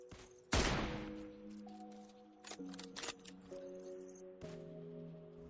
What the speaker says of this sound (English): Here I am shooting from high ground to low ground around 475 meters.